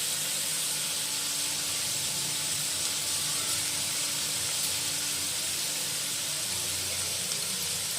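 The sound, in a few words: water boiling in a cooking pot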